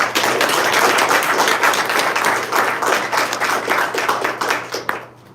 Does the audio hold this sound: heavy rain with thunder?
no